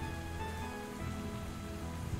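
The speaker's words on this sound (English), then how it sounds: "Is it raining? It's raining it's a little raining." Light rain falls steadily outdoors somewhere remote in Arizona, a soft continuous patter at low level with no voices over it.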